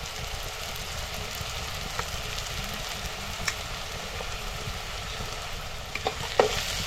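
Onion stir-fried with turmeric and Konkani homemade red masala in a pan, giving a steady soft sizzle with occasional scraping clinks of the spoon, close by and moderate in level.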